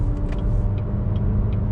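A 2020 Cadillac XT4 luxury crossover SUV drives through city traffic, giving a steady low engine and road rumble heard from the cabin, with a few faint higher clicks over it.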